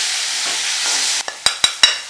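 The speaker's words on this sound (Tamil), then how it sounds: "இஞ்சிக்கும் பூண்டும் இந்த பச்சை வாசனை போகிற வரைக்கும் நல்லா வதக்கிங்க" Ginger and garlic sautéing in a pan, a hissing sizzle followed by three quick, sharp spatula knocks against the pan, close and loud.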